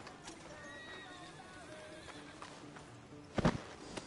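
A horse in Red Dead Redemption 2 whinnies over a steady game ambience of distant clatter, with a short burst of hoof clops near the end; no talking.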